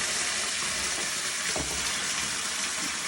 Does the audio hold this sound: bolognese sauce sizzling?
yes